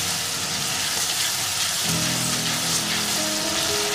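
Masala frying in a pan for Bengali prawn malai curry, a steady close sizzle and crackle that continues without a break, with faint background music coming in partway through and no voices.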